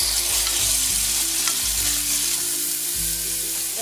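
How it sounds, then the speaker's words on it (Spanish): Chicken pieces fry in hot oil for Peruvian arroz chaufa, a loud, steady sizzle running without pause, with soft low knocks from stirring. "vamos a freír el pollo"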